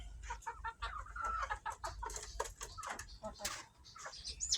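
A breeder hen clucks near a nest of eggs on a farm, giving repeated short bursts of clucking with other fowl calling around it, fairly close and moderately loud.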